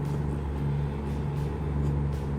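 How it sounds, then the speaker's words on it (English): A B-15 engine on a video-game truck engine-brakes with its Jake brake, giving a loud, steady, throaty drone that holds without a break. "B-15 Jakes sound like a metal trash can."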